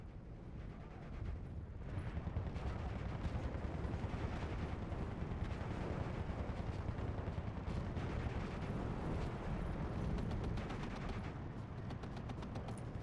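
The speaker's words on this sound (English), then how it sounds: "These guys started shooting back again at these guys." Rapid gunfire and heavier artillery blasts from the war game Endless War, a dense, continuous barrage of overlapping shots and booms that runs nearly the whole time at moderate volume, with no talking.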